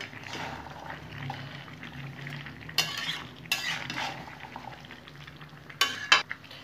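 Chicken with carrot, cauliflower and onion stalks being stirred in a frying pan, a steady low sizzle under repeated scraping of a spatula, with a few sharper clinks of metal against the pan.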